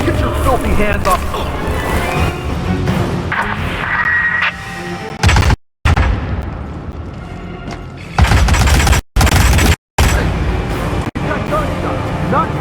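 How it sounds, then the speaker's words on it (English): Gunshots in the Hitman stealth game, heavy booms and sharp cracks punctuated by abrupt silences amid loud game sound, with talk over parts of it. "Gunshot, not fireworks this time. Gunshot."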